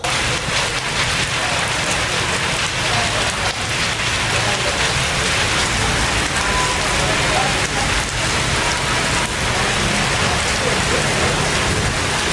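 Heavy rain pours down steadily, a loud dense hiss of drops on surfaces that continues without a break throughout.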